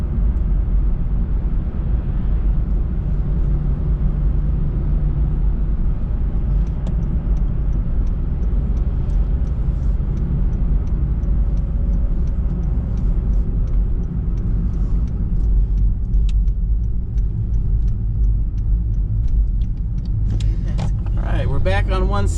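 Interior drone of a car driving along the road through Pahrump, Nevada: steady loud low-end engine and tyre rumble throughout, with some clicks and a brief rise in noise near the end.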